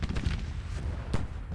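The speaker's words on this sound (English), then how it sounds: "I'm having issues having these cannons fire constantly." Civil War cannon batteries fire in Grand Tactician: The Civil War, giving dull booms and rumbling blasts in a steady battlefield barrage, with a sharper report near the end.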